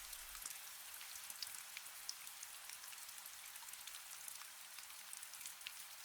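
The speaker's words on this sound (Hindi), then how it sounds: "किसी मोड़ पर अचानक बारिश की बहुत हल्की फुहार खिड़की तक आई" Light drizzle patters softly and steadily, with fine scattered droplets ticking against a train window on the Nilgiri Mountain Railway near Ooty, faint and even throughout with no voices.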